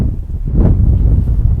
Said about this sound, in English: This wind's getting bad.